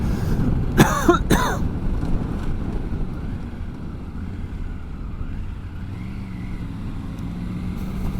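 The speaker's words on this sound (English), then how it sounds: "I'm going to have a little cough" Two sharp coughs close to the mic near the start, then steady wind and road noise with a vehicle passing faintly, heard while riding a Triumph Tiger 900 Rally Pro motorcycle along a narrow lane.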